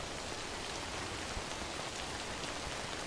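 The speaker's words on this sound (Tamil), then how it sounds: "மழையில் போவா வேணாம்" Steady rain in Death Stranding, a dense, even hiss of drops falling on the ground, continuous and close with no other sounds.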